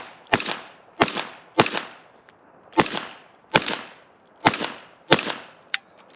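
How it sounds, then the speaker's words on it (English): Seven suppressed shots ring out from a Kel-Tec P50 5.7x28 pistol loaded with 40-grain Federal American Eagle ammunition. Each is a sharp, close crack with a short decaying tail, fired at a steady, slightly uneven pace about every 0.6 to 1.2 seconds. "Here's the P50 Keltec suppressed with Federal ammo in it, 40 grain American Eagle, taking shots"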